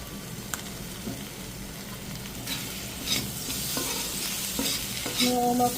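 Spiced prawn and potato curry with chopped tomato frying and being stirred in a pan, a steady soft sizzle broken by occasional scraping stirs and small pops, fairly quiet and close.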